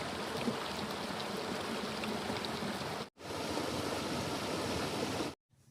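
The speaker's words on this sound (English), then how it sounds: "the divots make the flow of the water change a little bit" Stream water flowing over a rock covered in divots on a mountain trail: a steady, close, full rushing and splashing that cuts out abruptly twice, alone with no voices.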